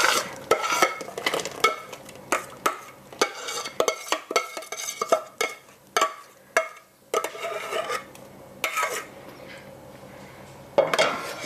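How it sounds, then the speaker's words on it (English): A spoon stirring aronia berries and softened apples in a pot for jam, with repeated wet scraping strokes against the pot in an uneven rhythm, close and moderately loud, with no talking. "Mix it together and boil a tiny bit longer."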